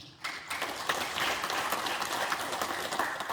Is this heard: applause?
yes